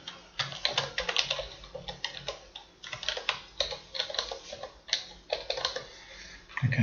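Fingers tap out a username and password on a computer keyboard, a steady run of close, crisp key clicks in quick irregular bursts with short pauses between.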